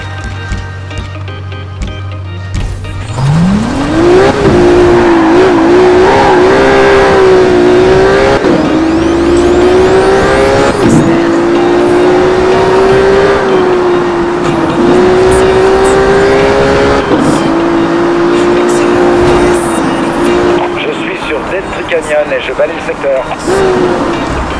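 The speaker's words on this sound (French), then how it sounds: "Centrale, j'assiste à une course de rue sur Sun Valley Run." Street race in Need for Speed Rivals: a single loud engine climbs sharply in pitch after a quiet start, then holds a strained high whine with brief dips at gear changes, while a radio-style voice talks over it.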